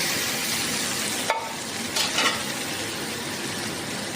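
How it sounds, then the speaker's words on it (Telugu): Broad beans tumble into a hot pan of frying seasoning for a Telugu chikkudukaya curry and get stirred, a steady close sizzle with a couple of brief scraping clatters partway through. "చిక్కుడుకాయ వేసేసుకొని కలుపుకోవాలండి"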